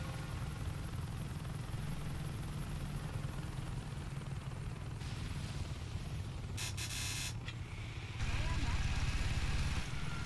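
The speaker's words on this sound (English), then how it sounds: "If my fucking helicopter didn't go fucking haywire." A helicopter in the video game Saints Row 2, a steady droning rotor hum that holds for the whole stretch, broken by bursts of brighter electronic tones and getting heavier in the final seconds.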